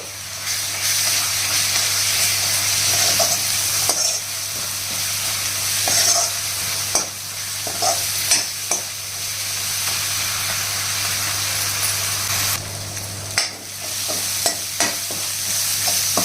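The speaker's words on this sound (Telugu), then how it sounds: "అల్లం వెల్లుల్లి పేస్ట్ పచ్చివాసన పోయేంత వరకు వేగించాలండి" Ginger garlic paste, two spoonfuls, frying and sizzling in a pan on the stove, with steady steamy hiss under repeated scraping stirs and occasional clinks, continuous and close throughout.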